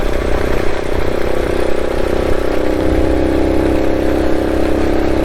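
A Honda Monkey motorcycle engine runs at a constant, loud, close drone, an unbroken low rumble throughout, on a trail among aspens.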